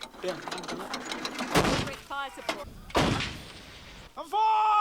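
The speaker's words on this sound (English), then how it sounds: "The soldiers here are now engaging the enemy with indirect fire." Six field guns fire from a secure position during a 1990 military exercise. Two sharp, booming reports stand out amid clanking mechanisms and a voice, and a rising whine follows at the end.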